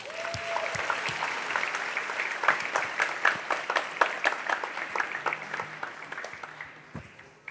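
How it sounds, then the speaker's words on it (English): A crowd at a reconciliation gathering at the Living Arts Centre gives a round of applause, individual claps distinct and rhythmic, moderately loud and fading slightly toward the end. "Another round of applause, please."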